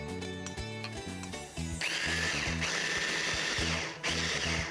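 A motorized food processor grinds chickpeas, onion, mint, salt, pepper and cumin, a loud close whirring with rhythmic chopping pulses and rattling that builds into a steadier grinding roar.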